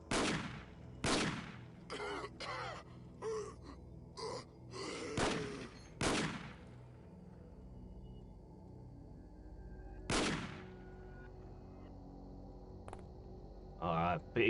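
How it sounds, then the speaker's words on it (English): Heavy shotgun blasts in the XCOM video game. Sharp, loud booms fire in quick irregular succession, then one more follows after a pause, with a faint final shot at the end. "Big heavy shotgun."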